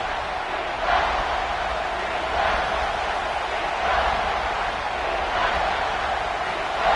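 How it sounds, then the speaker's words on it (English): A football stadium crowd on third down roars in a steady, dense wash of cheering, swelling in loose waves throughout without pause. "Third down, and the crowd really getting into it"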